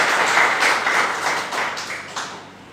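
A church congregation claps loudly during an Indonesian sermon, many hands in a brisk, dense burst that swells early and then thins and fades toward the end, with no voices over it.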